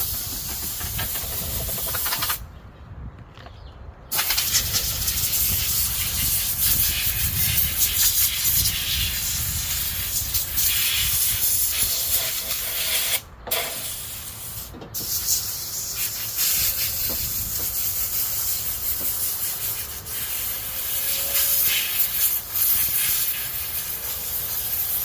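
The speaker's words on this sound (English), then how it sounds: "blew it off with the compressor" A small air compressor blows a strong, steady hiss of air across the trunk jambs of a 1991 Honda CRX during sanding work, loud and close, with brief pauses in the airflow.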